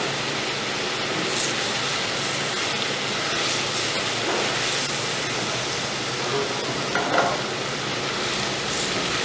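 Meat sizzles in rendered fat in a hot pan, a dense, steady crackling hiss close up, broken now and then by the faint scrape of stirring, with no talking.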